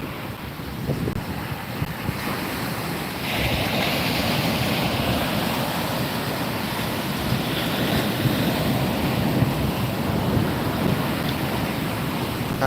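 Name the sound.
ocean waves breaking on the shore at night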